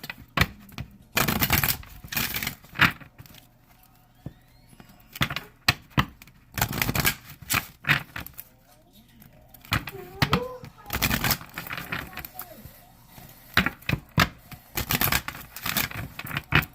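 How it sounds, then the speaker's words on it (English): Rapid riffling and flicking of playing cards in several bursts, close up, with sharp papery clicks and occasional quiet talking between shuffles. "And I'm going to start shuffling."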